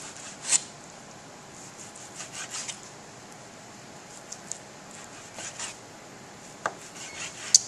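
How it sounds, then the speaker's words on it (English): A knife slicing raw beef steak strips into half-inch cubes on a cutting board, giving soft scattered scraping and rubbing strokes with a few sharper taps, close by and fairly quiet, with no voices. "Keep your strips together, and I'm going to go ahead and create my cubes."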